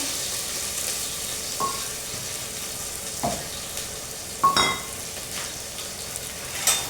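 Cumin, chopped onion and green chillies frying in hot oil in a pan, a soft continuous sizzle broken by a few sharp stirring clinks and scrapes.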